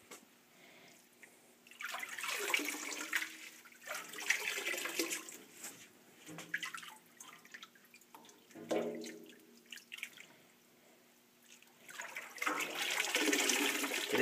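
Salad spinner whirling water off freshly washed microgreens, in several rushing, splashing bursts of a few seconds each separated by quieter pauses, close and fairly loud with no voices.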